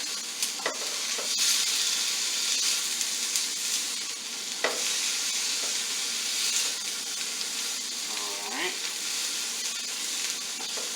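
Steady, loud sizzling and hissing of beef frying in a hot pan over fairly high heat, with occasional scraping clicks of stirring throughout.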